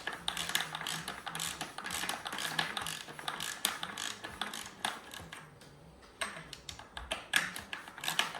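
Repeated clicking of a ratchet wrench with a socket working the stem pivot of a Lefty 88 or Lefty Hybrid mountain bike fork, a steady close run of quick pawl clicks that pauses briefly near the end before resuming.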